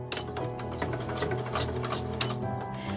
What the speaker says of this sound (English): I'm now going to lower the presser foot and I'm going to sew off into the corner